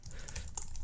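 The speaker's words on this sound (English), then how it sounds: "if I can type this out correctly" Brief burst of quick typing on a computer keyboard while writing Swift code, several light close keystrokes in rapid succession with no talking.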